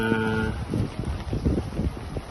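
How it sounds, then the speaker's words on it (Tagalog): Strong typhoon wind in Mandaluyong roars steadily into the microphone with rough, gusty buffeting, loud and close, with no voices. "lumalakas na po ang hampas ng hangin dito sa area ng Mandaluyong"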